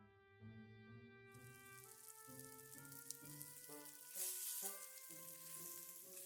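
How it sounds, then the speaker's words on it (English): Meat sears in very hot vegetable oil with a steady sizzle and crackle, heard under a sustained musical backdrop, with a brighter burst of hiss partway through. "Here, we just sear the meat in some very hot vegetable oil until it is brown on all sides."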